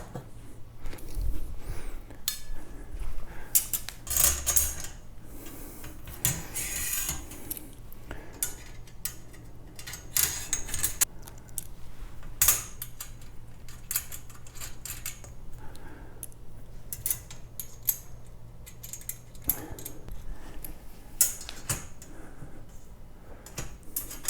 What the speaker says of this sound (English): Now I need to tighten some bolts and put on the cross brace.